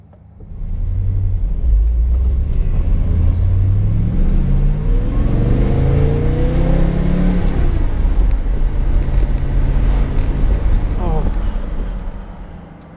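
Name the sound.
ISO Grifo car engine while driving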